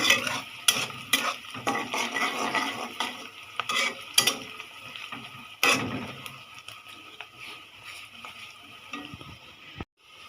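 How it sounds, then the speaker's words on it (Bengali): Green bitter gourd fries with dried chillies in a pan, a soft sizzle running underneath while a utensil scrapes and clinks against the pan in repeated irregular strokes, close and fairly loud. "শুকনা মরিচ দিয়ে ভাজিটা করে দেখি"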